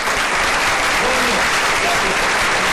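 A large audience gives sustained, dense applause for a performing duo at the Hispanic Scholarship Alliance 2013 event, loud and continuous throughout with no distinct individual claps.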